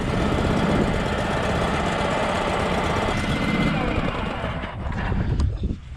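Small tractor engine idling steadily as it warms up, a close, loud, even rumble that runs throughout and drops slightly near the end.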